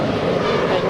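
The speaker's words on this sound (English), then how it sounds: "It's an A320." Broadband roar of a JetBlue Airways Airbus A320 jet on the ground at LAX airport, waiting to cross a runway, steady and fairly loud with no talk over it.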